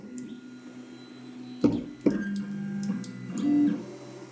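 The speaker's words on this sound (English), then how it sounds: "Now printing, it's going between 67 and 70 decibels." A Creality Ender 3 3D printer runs a print job fitted with a silent board upgrade, giving a steady low motor hum broken by a few sharp clicks and shifting stepper whines, heard close with no voices.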